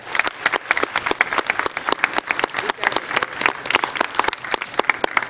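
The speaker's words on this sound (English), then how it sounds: "Can we give them a round of applause?" A room full of people at a city council meeting claps loudly and continuously, a thick, crackling wash of hands with no talk over it, holding strong for the full five seconds.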